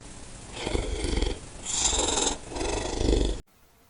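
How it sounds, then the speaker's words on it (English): A cartoon character snores in three long, rasping breaths about a second apart, fairly loud and close, ending abruptly with no talk over it. "you snore."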